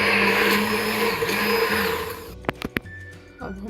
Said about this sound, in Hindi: अब हम अपने प्याज़ों को अच्छी तरह मशीन के साथ बारीक कर लेंगे